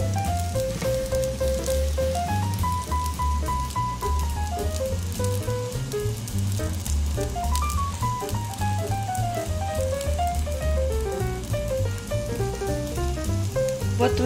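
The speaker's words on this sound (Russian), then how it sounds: "Итак, продолжаем" Fluffy kefir pancakes (oladyi) fry in a pan with a steady, continuous sizzle that sits under loud melodic background music throughout.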